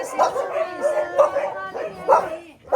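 Dogs at a dog and cat shelter bark and yip close by in a quick run of four or five sharp barks, some with a whimpering, howling edge.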